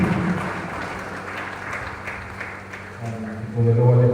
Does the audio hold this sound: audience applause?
yes